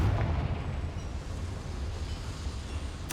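A Confringo fire spell bursting in the game Hogwarts Legacy, a heavy booming blast that rolls on in a low rumble, with a sharp crack near the end.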